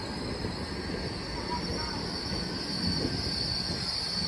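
A Great Western Railway train brakes toward a stop at Didcot Parkway, its wheels squealing in a high steady whine over a rumbling roll that continues throughout, fairly close.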